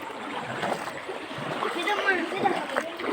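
Floodwater covering a street in front of a madrasa in Lakshmipur splashes and sloshes steadily as something moves through it, with voices over the water.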